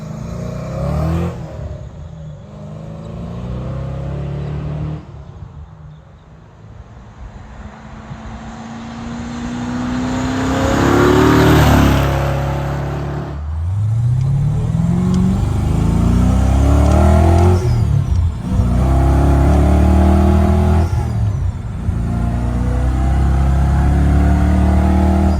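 A supercharged 5.0 Fox-Body Ford Mustang engine revs hard indoors, loud and close, with rising and falling swells and a supercharger whine, repeated throttle blips with no talk.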